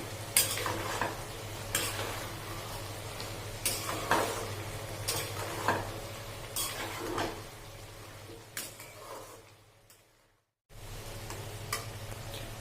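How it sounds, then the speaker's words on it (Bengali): A vegetable sabji sweetened with jaggery is stirred in a pan: repeated close scraping and clinking strokes over a low sizzle, then a brief silent gap before stirring resumes, with no voices. "এবার এটাকে আমি হালকা নেড়ে চেড়ে নেব।"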